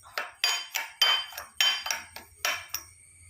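Ground wheat and sugar being mixed in a bowl, heard as a string of about eight sharp metallic clinks and scrapes of a spoon against the bowl in an irregular rhythm, close and fairly loud, with no talking.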